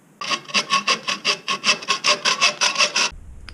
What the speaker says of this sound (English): it's cut, and I deburred it with a file